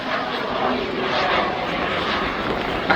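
A one-off jet-powered Pitts S2S Special aerobatic plane climbing into a vertical manoeuvre at an air show at Duxford produces a continuous loud roar. The roar holds steady for several seconds, with a brief bump near the end.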